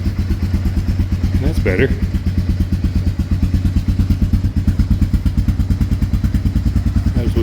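A Honda 300 engine runs steadily without choke, a loud, even, rapid thumping idle that carries through the whole stretch, with one brief clank near the start and a short spoken remark over it.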